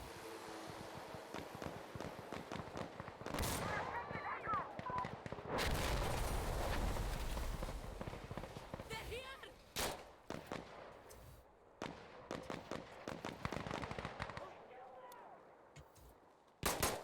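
Battlefield video game gunfire in a PvE bot match: repeated loud sharp shots and bursts, with heavy explosive booms mid-clip and scattered rapid cracks throughout, close and dense.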